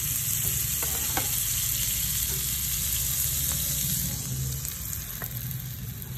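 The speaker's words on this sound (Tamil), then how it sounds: "இப்போ நம்ம வந்து இதை டோஸ்ட் பண்ணி எடுத்துக்கலாம்." Garlic bread toasts with butter in a pan, giving a steady close sizzle with faint scraping clicks that eases slightly toward the end.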